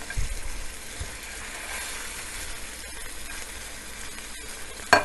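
Mutton sizzling in a pot with oil as it is browned for yakhni pulao, a steady close frying hiss with occasional stirring knocks and a louder clatter at the end.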